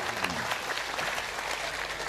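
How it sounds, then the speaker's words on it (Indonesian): A crowd applauds at a madrasah inauguration ceremony in Central Java: steady, even clapping from many hands, heard from some distance and fairly soft, lasting a couple of seconds. "Tepuk tangan untuk madrasah kita."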